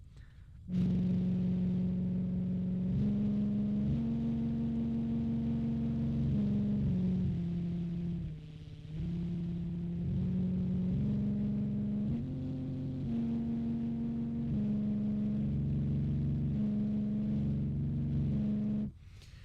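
A homemade slotted-disc siren gives a steady, buzzy low drone like a car running without its muffler, holding its pitch with small rises and dips for nearly twenty seconds, close and alone.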